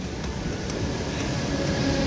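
A metro train rumbles through a station, a steady low mechanical roar close by with no clear talk.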